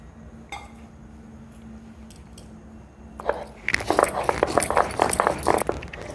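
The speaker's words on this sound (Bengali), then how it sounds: "তো এখানে আমি এখন মশলাটা বেটে নিচ্ছি। প্রথমে নেব জিরেটা আগে ভালোভাবে বেটে নেব।" Cumin seeds being ground on a grinding stone, a scraping, crunching stone-on-stone rhythm that starts after a quiet stretch and grows loud and busy over the last half.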